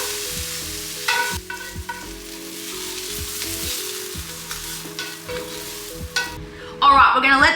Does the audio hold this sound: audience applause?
no